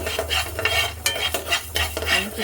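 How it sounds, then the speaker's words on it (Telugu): Coriander seeds roasting in a pan, stirred with a spatula: repeated scraping strokes and light rattling over a low steady hum, close and fairly loud. "ఒక హాఫ్ స్పూను ధనియాలు వేయించుకోవాలి"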